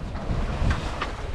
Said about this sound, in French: malgré le vent, ben, c'est un petit vent